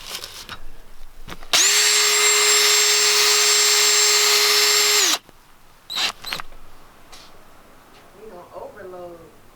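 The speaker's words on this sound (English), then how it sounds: "So I will use the drill brush." A power drill brush whines loudly and steadily for a few seconds while scrubbing a car seat, then stops; brief clunks and a short voice follow.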